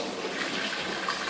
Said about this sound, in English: Just make sure all the water's out.